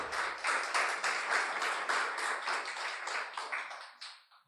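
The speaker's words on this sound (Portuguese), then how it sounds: "Você pode aplaudir a Jesus nessa noite?" A church congregation applauds Jesus during an evening sermon, a faint, rhythmic run of clapping that fades out at the end.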